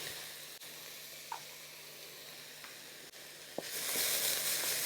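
Chopped ginger and crushed garlic sizzle steadily in olive oil, a dense close hiss with a couple of faint pops, swelling noticeably louder near the end.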